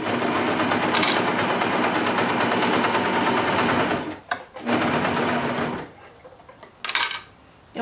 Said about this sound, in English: I like using my serger because it's quicker than my sewing machine